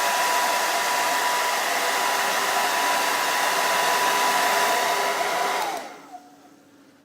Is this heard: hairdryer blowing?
yes